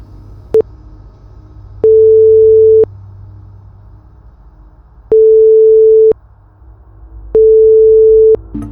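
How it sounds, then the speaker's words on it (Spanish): Telephone ringback tone of an unanswered call to a missing airliner crew member's mobile phone: three long, steady beeps separated by pauses of low background hum, loud and clear, with no voices. "aseguran escuchar el tono de llamada, sin embargo, nadie contesta"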